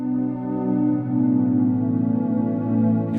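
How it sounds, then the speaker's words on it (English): Sustained square-wave pad from a Korg Opsix FM synthesizer, a steady buzzy chord held for several seconds with gentle swelling movement, alone and up close. "so you could have a square type pad"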